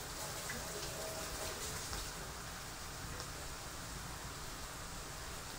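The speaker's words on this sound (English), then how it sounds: "I'm just going to rinse off my hands" Kitchen tap running as hands are rinsed, a steady, even hiss of flowing water close by with faint splashing and no talk.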